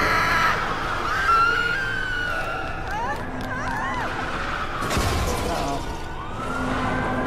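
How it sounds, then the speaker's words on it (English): Screams and shrieks from frightened people in the Lego Jurassic World video game, rising over a busy city ambience with a wailing siren and crowd babble, continuous and fairly loud throughout. "Follow the screams."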